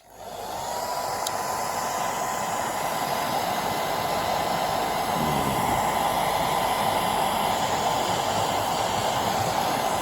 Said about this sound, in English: It's better to use the hairdryer.